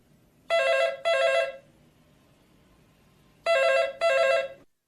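Telephone ringing for an incoming call: two clear double rings of a bright electronic bell separated by a pause, loud and close in a quiet room.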